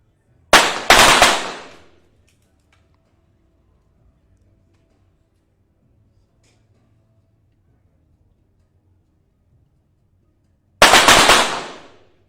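Two sharp gunshots from a 25 m pistol in a shooting World Cup final, one near the start and one near the end, each loud and abrupt, separated by about ten seconds of near silence.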